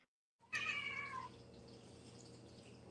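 A cat lets out one loud, drawn-out meow right after a short silence, then only faint room noise follows.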